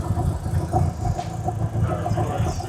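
Mitsubishi Evo 9 Wagon engine with an Arashi turbo idling roughly and shaking hard, a steady close lumpy rumble with no talk.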